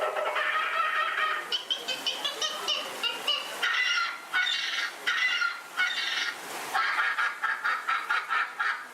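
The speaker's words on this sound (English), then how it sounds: "Suddenly, the treetops explode in a frenzy of outraged birds." Frenzied honking and squawking of many birds bursting from treetops, a show effect on a Disney ride, loud and continuous with choppy bursts and overlapping calls throughout.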